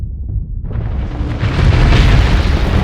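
A torpedo blasts against a raised fortress shield in the space combat game Starsector, a loud rumbling explosion that swells after a brief low thud and holds as a broad roaring wash.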